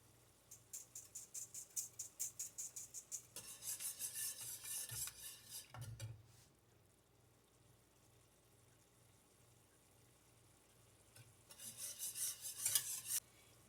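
Thickener pressed through a metal sieve into pot roast gravy: rapid rhythmic scraping and rasping strokes, close and fairly quiet, a long pause, then another burst of scraping near the end.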